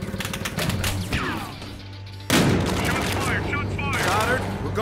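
Gunfire crackles through a tense Battlefield Hardline firefight, a sudden loud burst kicking in midway and continuing as rapid overlapping shots beneath shouting voices.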